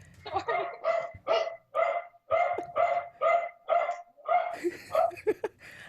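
An excited dog barking at home, a rapid series of about a dozen loud, close barks in a steady rhythm, alone without speech.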